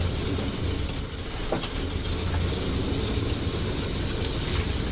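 A 1966 Ford Mustang hardtop with a 289 V8 on the move, a steady loud rumble of engine and road noise heard from inside the car with no break.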